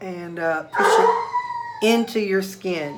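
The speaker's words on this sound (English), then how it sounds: "You can hear my dog in the background." A dog howls in the background in long wavering tones that rise and fall, while a person talks nearby.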